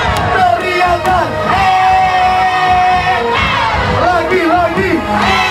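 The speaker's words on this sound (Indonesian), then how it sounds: "teriakan" A wedding crowd yelling and whooping together in a loud sustained roar, sharp group shouts rising and falling across several seconds, with some voices standing out near the front.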